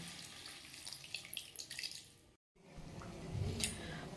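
Water is poured into a pan of soybean and potato curry, a soft splashing trickle that stops briefly and resumes, faint and close, with no talking.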